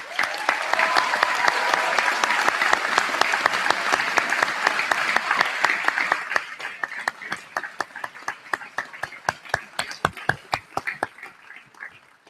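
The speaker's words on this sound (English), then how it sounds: "join me in a round of applause for those other graduates" A graduation audience at the Pingry School's 2017 commencement breaks into loud, sustained applause. It then thins over the last seconds into scattered, separate claps that fade out.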